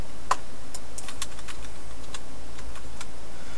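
Computer keyboard keys tapped while fan speed values are entered in AMD graphics card settings, a handful of light, scattered clicks over a steady low hum, close and fairly quiet, with no talking.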